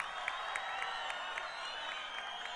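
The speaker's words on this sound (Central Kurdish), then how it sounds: "کوا چەپڵەکانتان" Festival crowd at an international multicultural night applauding, a steady dense wash of clapping with a few scattered whoops, fairly distant and continuous throughout.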